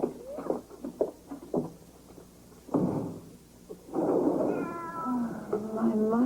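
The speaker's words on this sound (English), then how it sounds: "the poor kitty must be cold out there" A cat left outside in the cold meows repeatedly, with short cries early on giving way to longer, drawn-out wails, close and clear over light rustling.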